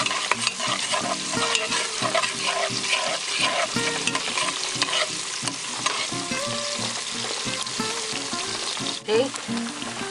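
Steady, loud sizzling of onions frying in hot oil, with occasional stirring scrapes and clinks throughout, no voices.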